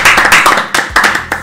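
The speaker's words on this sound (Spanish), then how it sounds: "Ese un aplauso para Berti." Clapping for Berti in a small group, a handful of loud, close, uneven hand claps in quick irregular bursts rather than a full crowd, with no talk.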